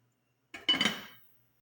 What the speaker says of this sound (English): I pour in pepper and tomato mix.